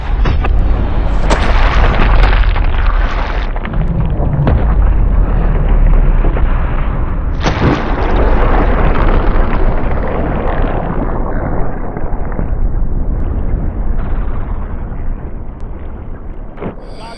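A 50-caliber gun fires a 550-grain lead slug with a loud, sustained blast whose roar and rumbling echo carry on for many seconds, with no talking heard.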